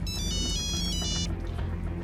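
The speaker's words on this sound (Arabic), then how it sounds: "رؤوف بيه على التليفون عايزك" A telephone ringtone plays loud and close in a steady repeating electronic pattern, then stops partway through.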